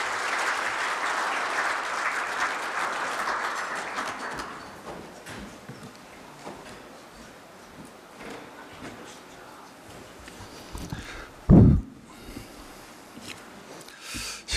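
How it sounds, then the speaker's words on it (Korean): Audience applause welcomes the dean of Korea University's Graduate School of Labor Studies at a development committee launch ceremony. It is full and steady for about four seconds, then fades into a quieter room murmur with a brief sharp thump near the end. "박수로 환영해 주시면 감사하겠습니다."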